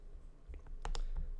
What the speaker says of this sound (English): So in this case, I'm just going to click it.